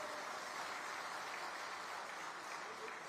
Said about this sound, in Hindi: मेरा सबसे निवेदन है जोरदार ताली बजाकर उनका स्वागत करें